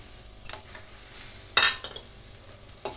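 Raw chana dal being stirred and lightly fried in a pan, a low steady sizzle with a few sharp scraping clinks from the spatula against the pan at intervals, close and alone.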